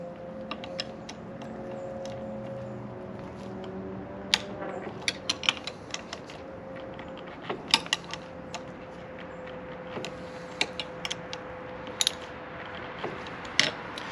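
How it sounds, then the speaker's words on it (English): A wrench tightens the 10 mm handlebar pinch bolts on a Yamaha 950 motorcycle, giving sharp metallic clicks and ratcheting ticks at irregular intervals over a quiet room hum, close and alone with no talking. "I also always check the handlebar pinch bolts here and just make sure that those are tightened down."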